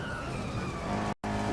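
Race car in the Real Racing 3 mobile racing game braking hard and skidding, a loud continuous engine and tire roar that cuts out briefly near the end before resuming.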